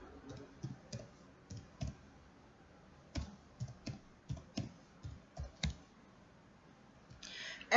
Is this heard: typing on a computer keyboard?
yes